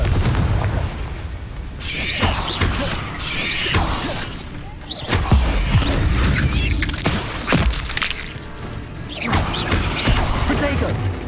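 Confringo fire-spell blasts in the Hogwarts Legacy game, repeated booming explosions with crackling, shattering debris every couple of seconds, loud and close amid ongoing combat noise.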